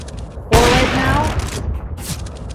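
In a CS:GO one-on-one match, a sudden loud burst of gunfire breaks out with rapid repeated shots, fading into a brief lull before one more shot, with a voice speaking over part of it.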